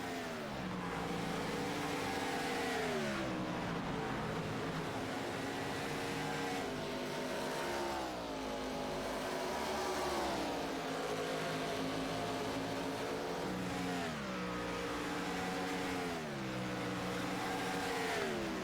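Race cars battling for 14th place off the lead lap on a track, their engines droning continuously with repeated rising and dropping revs as they pass through corners, heard at moderate distance with no pause.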